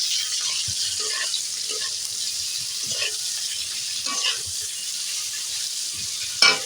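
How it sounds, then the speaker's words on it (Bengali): Potato pieces with salt fry in a pan with a steady, close hiss of sizzling oil, broken by soft stirring scrapes and a brief louder clatter near the end. "এইভাবে ভালো করে আমি কষতে থাকবো"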